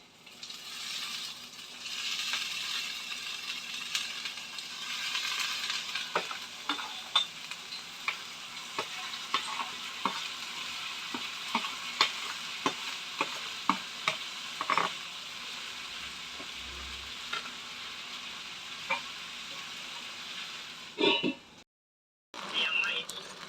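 Steady sizzling and frying of tender okra curry in a pan, with occasional sharp ticks and clinks of a stirring spoon against the pan over about twenty seconds, a voice talking faintly at times.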